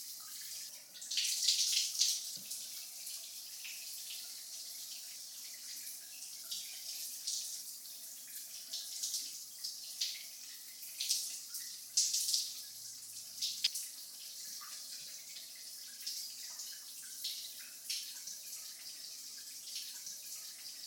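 Shower water runs steadily for the whole stretch, a continuous close-up hiss of spray with a few splashy surges and no voices.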